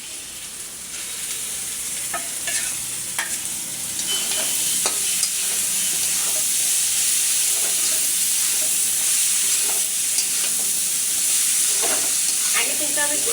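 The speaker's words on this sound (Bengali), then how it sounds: "আগে কিন্তু আমি ভুঁড়িগুলো ভালোভাবে কষিয়ে নেব" Boiled beef tripe frying with spices in a pan gives a steady, loud sizzling hiss, broken by the scrape and clack of stirring throughout, with no one talking.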